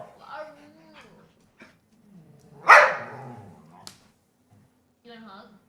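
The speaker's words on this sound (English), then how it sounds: "Apologies for the barking." A dog barks sharply once at close range between stretches of a person talking, with small whimpers around it.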